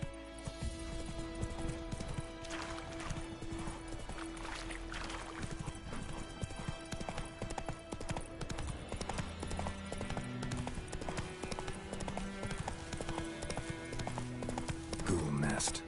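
Horse Roach galloping in The Witcher 3 video game: rapid, steady hoofbeats running continuously under game music and ambient sound, moderately loud throughout, with a voice speaking briefly.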